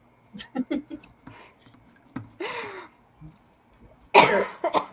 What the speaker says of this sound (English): I did just finish coughing.